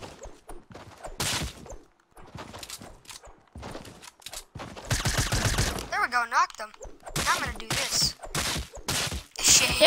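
Bursts of gunfire from the Fortnite battle royale video game in a silenced game mode, short sharp volleys scattered through the scene and mixed with players talking over them.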